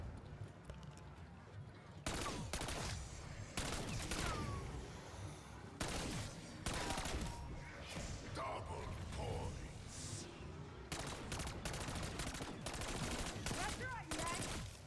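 Gunfire in Call of Duty Warzone: loud, dense bursts of automatic shots repeat through the clip with brief gaps between volleys, with some talk in between.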